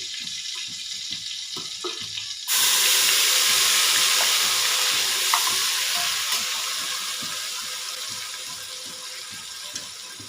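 Onion dropped into hot oil and butter for a tempering, Kolhapuri-style pav bhaji: a loud sizzle bursts in suddenly after quiet kitchen clatter and holds as a steady hiss that slowly eases off, no talking.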